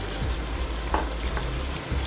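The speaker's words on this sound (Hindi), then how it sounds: "आलू को हम मसाले के साथ अच्छे तरीके से भून लेंगे।" Diced potatoes fry with spices in a pan for aloo gosht, a close, steady sizzle broken by scraping stirs and the occasional soft clink of a spoon.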